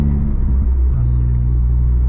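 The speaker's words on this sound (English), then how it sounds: "When you can't hear the pops, all you can hear is the induction." A 270 bhp Ford Fiesta ST2 hatchback's engine gives off a loud, steady induction rumble from inside the cabin, a low continuous drone with no pops.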